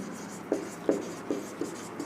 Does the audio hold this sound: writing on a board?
yes